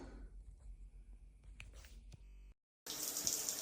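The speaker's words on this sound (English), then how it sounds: "We're going to turn the water on." A shower tap with a Grohe thermostatic valve: faint clicks and low handling noise, a moment of silence, then a sudden loud hissing rush of running water.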